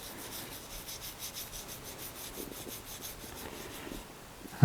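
Oil being brushed onto the end grain of a wooden handle on a hand-forged garden weeder, a soft steady rubbing and swishing of bristles in repeated strokes, quiet and close, with no talking.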